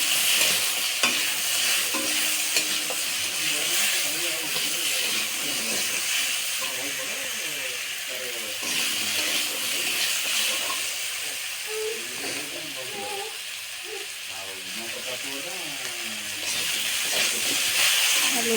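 Salted potatoes frying in a pan, giving a loud, continuous hissing sizzle with frequent stirring scrapes throughout.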